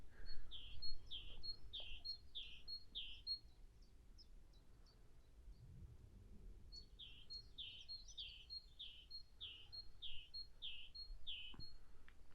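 Birds in the Headcorn countryside give two runs of rapid, repeated bright chirps, each lasting a few seconds, faint and distant over quiet outdoor ambience.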